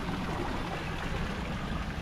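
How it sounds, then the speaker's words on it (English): Steady rush of falling water at a waterfall in Ubud, Bali, a dense continuous roar that stays even and full-bodied throughout with no voices over it. "this is a waterfall"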